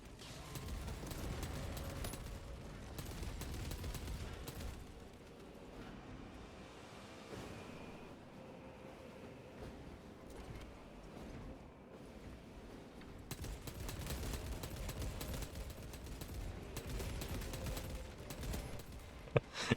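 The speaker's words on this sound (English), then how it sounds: "It's a machine gun!" Sustained machine gun fire rattles in Warhammer 40,000: Space Marine 2, faint and continuous, heavier at the start and end with a quieter stretch between.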